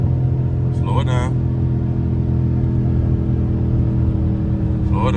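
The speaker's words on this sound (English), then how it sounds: "She sounds so powerful when the windows up, cause you can't hear nothing but the exhaust." A Scat Pack engine rumbles steadily from inside the cabin with windows up in cold weather, its exhaust droning low and constant, with brief bits of talk near the start and end.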